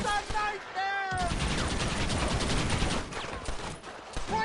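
Video game gunfight in Red Dead Redemption, with a voice briefly at the start before dense, continuous gunfire takes over as a heavy, crackling volley that lasts the rest of the moment.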